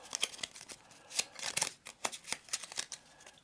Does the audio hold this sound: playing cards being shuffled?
yes